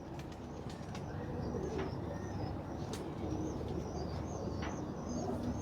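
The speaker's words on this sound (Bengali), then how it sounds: "আমার নতুন দুইটা কবুতরের বাচ্চা আপনাদেরকে দেখাই" Soft, steady cooing from two young pigeon chicks, close by, with faint chirpy calls over a constant low background rumble; no talking.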